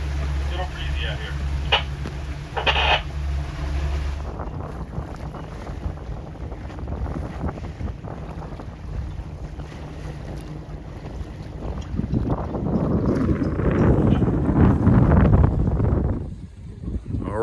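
Strong wind buffets the microphone as a boat backs into a marina slip on a breezy day, with engine rumble early and rushing gusts building toward the end while people talk intermittently.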